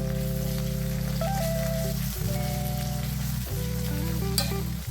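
Chopped tomato pieces sauté in a pan for a stew, a steady close sizzle running continuously under a sustained musical background, with no speech.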